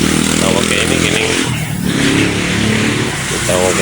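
A motorcycle engine drones and revs along a nearby road, loud and continuous, with a voice talking over it.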